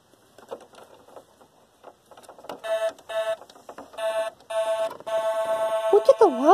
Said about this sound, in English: I'm just beeping the lights for Riley to see